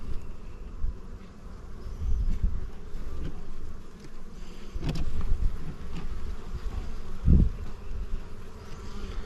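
Honeybees swarm around an open hive in early spring after winter as frames of drone comb and honey are worked, a steady dense buzzing throughout with close passes and a brief thump.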